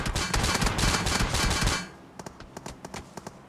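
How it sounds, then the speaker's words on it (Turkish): Automatic gunfire in the mobile battle-royale game PUBG Mobile: a dense, loud stretch of rapid shots, then scattered single bursts and pops spaced out over the remaining seconds. "Oha arkadan sıkıyorlar"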